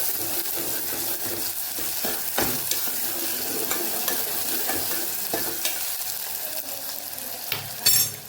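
Bottle gourd with ginger and chillies sautéing in a pan for a fasting khichdi, a steady close sizzle with scraping stirs and occasional sharp clinks of a spoon against the metal, no voices.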